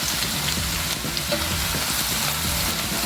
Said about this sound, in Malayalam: ഈ ഉള്ളി നമുക്ക് വറുത്ത് കോരാൻ വേണ്ടിയിട്ടാണ് ഇടുന്നത്.